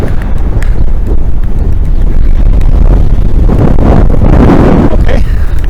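Strong wind roars steadily against cyclists riding along a beach road, a constant loud buffeting rumble across the mic with no talk.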